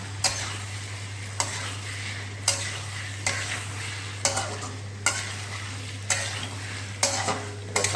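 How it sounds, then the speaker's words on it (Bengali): Meat being sautéed on a low flame while a spoon scrapes and stirs it in the pan at a steady rhythm, with a constant soft sizzle and a low steady hum underneath. "এটাকে 5 মিনিট করে এভাবেই আমাকে অল্প ফ্লেমে কষাতে হবে"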